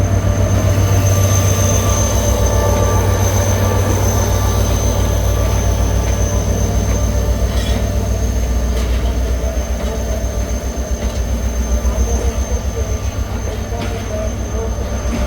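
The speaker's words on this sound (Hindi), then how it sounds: "वाली 47 अप रहमान बाबा पहुंच रही है फैसलाबाद स्टेशन पे" The Rehman Baba 47 Up passenger train pulling into Faisalabad railway station during the morning rush, a loud continuous rumble of wheels and wagons close by, with a faint voice underneath.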